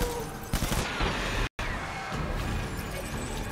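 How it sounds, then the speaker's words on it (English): Shotgun blasts in the video game Death Stranding, a loud dense burst of gunfire with a sharp cut to silence midway, then continued rumbling combat noise. "Take this shotgun. I haven't used the shotgun yet."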